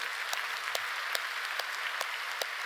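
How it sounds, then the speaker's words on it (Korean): A congregation at a Friday night church service applauds together in a steady wash of clapping, with a few sharper individual claps standing out over the crowd noise, and no speech. "우리 청년들 위해서 박수 한번 주겠습니다."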